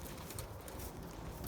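Racing pigeons coo softly at their home loft after returning from a race, a low murmuring blended with a steady background hiss, with no voices.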